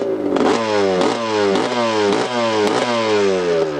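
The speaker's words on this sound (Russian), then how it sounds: "Я на нем прогазую." Suzuki TS200 two-stroke motorcycle engine blipped repeatedly, about six sharp revving rises falling back each time, loud and close with no talk.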